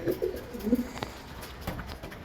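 A kept breeding pigeon gives a few soft, low coos up close at the start, followed by quiet rustling and light taps against a steady background hum.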